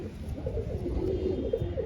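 Pigeons cooing softly at a pigeon flying session, a low, murmuring coo under faint background noise, brief and fairly distant.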